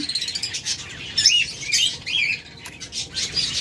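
A pair of albino pet budgerigars or lovebirds calls in a cage, giving repeated high chirps and squawky tweets at close range, with no talk over them.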